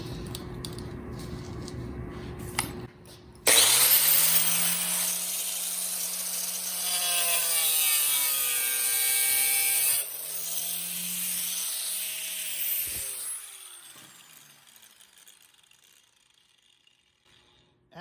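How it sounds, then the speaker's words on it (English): A cutting wheel grinds into a steel toe shoe, starting abruptly with a loud, harsh whine that holds steady and wavers in pitch, then fades as the wheel winds down, with no talking. "As you'd expect, the cutting wheel does its job"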